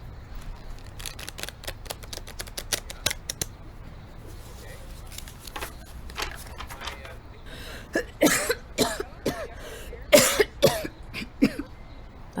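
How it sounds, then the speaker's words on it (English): A person coughing harshly several times in an indoor room during a card reading, the coughs clustered and loud after a stretch of quiet card shuffling and small handling clicks. "That's a nasty cough."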